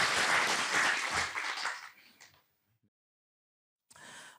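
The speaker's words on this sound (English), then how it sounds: "a good round of applause" An audience at an international food security conference in an auditorium claps loudly for about two seconds, the applause fading away into silence before a voice begins speaking.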